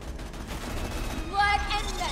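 Gunfire from a sniper rifle in the video game Borderlands 2, heard as a few sharp shots in a close-quarters fight over a busy game soundtrack with voices.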